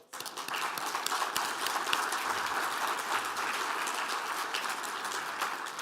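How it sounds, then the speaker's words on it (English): An audience at the Canadian Genomics Summit 2025 applauds a funding announcement, sustained dense clapping from many hands that starts abruptly and holds steady for several seconds. "I think we should applaud."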